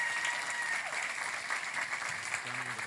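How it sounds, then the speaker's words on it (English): An awards-show audience at the Indie Game Awards applauds the tech team, a steady, dense wash of many hands clapping at an even level throughout. "So can we please have a round of applause to the tech team and everyone that made that happen."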